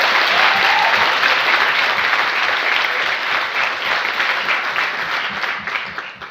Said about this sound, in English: So could I have a round of applause for our Polish hosts?